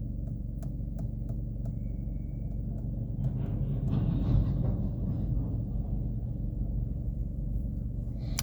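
Low, steady rumble from the connection between train cars, a dense reverberating drone that fills the whole stretch with a slight swell in the middle and faint clicks above.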